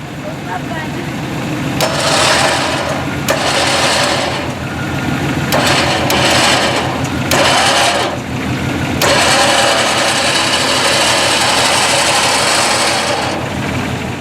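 A Warn winch re-spooling its cable onto the drum, a steady mid-pitched motor whir running in long pulls with brief pauses between them, close and loud throughout.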